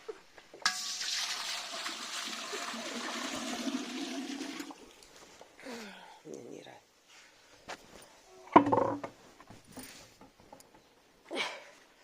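Water gushes steadily for several seconds, a close, loud pouring rush that stops abruptly, followed by a few clanks and brief talk.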